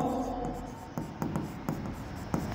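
Pen or marker writing on a board or page as furniture account is noted in an accounting lesson, soft scratchy strokes with light taps, close and steady, with no speech.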